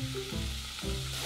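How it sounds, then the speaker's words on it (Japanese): Root vegetables stir-fry in sesame oil over medium heat in a frying pan, giving a soft, steady sizzle with light stirring shifts, fairly quiet and with no talk. "フライパンにごま油を小さじ1、 中火で炒めます。"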